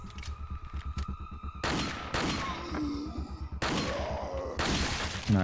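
Rapid bursts of gunfire in a creepy horror video game, a fast stuttering volley up front giving way to several loud blasts and crashes, with voices talking faintly in between.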